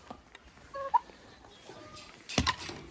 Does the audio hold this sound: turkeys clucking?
yes